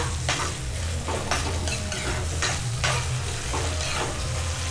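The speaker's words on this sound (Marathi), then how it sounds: "त्यात पाहिजे तर नंतर फास्ट करून कांदा मस्त फ्राय करून घ्या" Onions frying in a kadhai, with a dense, steady sizzle and repeated scraping stirs at a close, even loudness.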